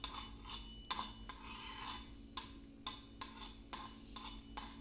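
Flour being mixed in a bowl while cooking pasta, a quiet series of rhythmic scraping and clinking strokes of a utensil against the bowl, close and faint with no talking.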